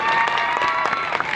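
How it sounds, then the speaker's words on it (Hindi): An audience at a program in Duliajan breaks into loud, close applause, a brief burst of crowded clapping with a faint tonal hum running underneath. "और एक बार जोरदार तालियां भगवान लगे"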